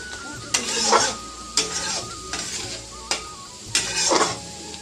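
Eggplants simmer in oil and water in a pan with a bright, steady sizzle, broken by repeated loud spatula scrapes against the metal at regular intervals.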